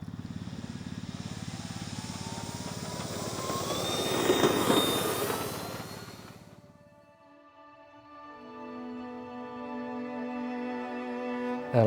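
Propeller motors of a 3D printed ATR42/72 model aircraft drone loudly and steadily, swelling as it passes close by, then fade away before a tonal whine takes over.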